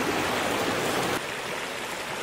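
A small mountain creek in the Wind River range flows steadily nearby, a broad continuous rushing and trickling wash that drops slightly in level partway through, with no voices.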